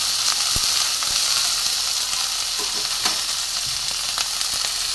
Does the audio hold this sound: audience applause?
no